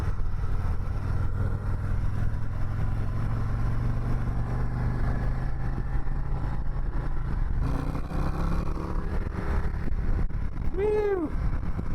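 A Harley-Davidson Road Glide ST motorcycle being ridden, a steady low engine drone with wind rush for the whole stretch, rising slightly as it pulls, with a brief voice near the end.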